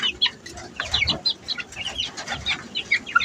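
Chickens clucking in a rapid, irregular series of short close calls, mixed with soft rustling and scratching in the background.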